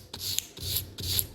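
Sandpaper scrubs back and forth over the upper side of a wire loop lying flat on a desk while a simple electric motor is being built, giving three close, gritty rasping strokes in a steady rhythm.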